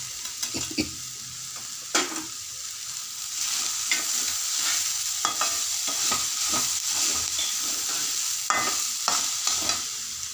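Boiled black horse gram, sprouted, is stirred in a frying pan with sautéed grated coconut. A steady sizzle runs throughout, with irregular close scraping and clinking of the spoon against the pan and no talking.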